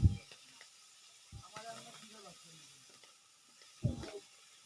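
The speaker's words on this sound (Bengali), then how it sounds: "আরো কিছু মাছ আছে, ওটাও ভেজে নিব।" Tilapia fries in oil in a kadai with a faint, continuous hiss. A few dull thumps come at the start and near the end, and a soft, muffled voice is heard briefly in between.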